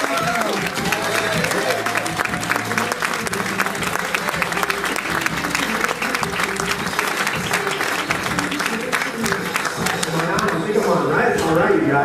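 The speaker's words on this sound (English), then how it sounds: "give him a round of applause" An audience claps warmly for a speaker being welcomed on stage: dense, sustained applause with crowd noise running evenly for about twelve seconds, close and fairly loud.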